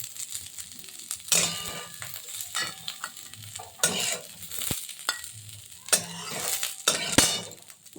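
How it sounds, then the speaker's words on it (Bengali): Cashews and raisins frying in ghee in a kadai are stirred with a utensil, giving a steady soft sizzle broken by repeated scraping and clinking strokes, close up with no talking. "নেড়ে আমি কাজু কিশমিশগুলো নামিয়ে নেব।"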